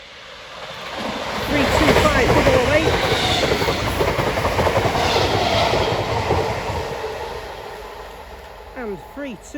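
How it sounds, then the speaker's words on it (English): Mail train passing through Wigan North Western station, a loud rumbling clatter of wheels and wagons that swells, holds and slowly fades, with a brief voice near the end. "is this the mail train? It is indeed the mail train."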